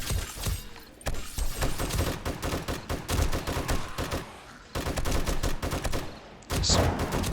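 An M60 machine gun fires in a zombie horde-night video game, with dense, rapid bursts of loud automatic gunfire broken by short pauses, close and continuous.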